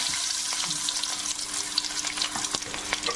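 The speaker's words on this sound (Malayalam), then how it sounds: "കടുക് കൂട്ടുമ്പോൾ ചെറിയ ഉള്ളി ചെറുതായിട്ട് അരിഞ്ഞിടുക" Chopped shallots frying with mustard seeds in hot coconut oil: a close, dense crackling sizzle with small pops and stirring scrapes, steady throughout and without talk.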